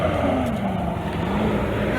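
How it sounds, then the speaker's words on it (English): A garbage truck drives past outside on a street where new houses are going up, its engine a steady, loud low rumble that fills the whole moment. "Oh my gosh, now that's the garbage man."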